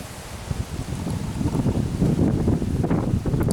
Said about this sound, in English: Sorry about the wind. There's a cold front coming through.